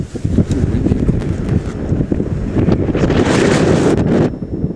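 Strong wind gusts buffet the microphone outdoors in a snowy forest, a steady loud roar and rumble that swells and fades over a few seconds, with no talk.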